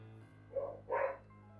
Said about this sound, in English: My neighbor's dogs and kids outside.